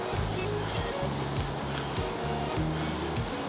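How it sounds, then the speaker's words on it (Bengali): Water is poured into a pan of doi potol, a pointed gourd and yogurt curry, giving a continuous close hissing rush under a faint low hum. "আমি ছোট বাটির 1 বাটি জল দিয়ে দিলাম।"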